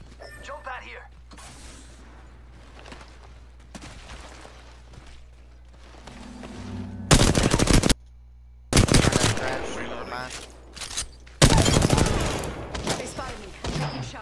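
Apex Legends gunfire: several loud, close bursts of rapid automatic fire separated by short pauses, with quieter game sounds and someone talking in between.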